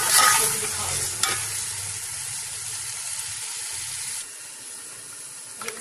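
Masala for Sindhi biryani sizzles and fries in a pan while being stirred, a steady close hiss with scraping stir strokes at the start and end.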